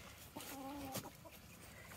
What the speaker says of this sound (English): Careful about the little chicks.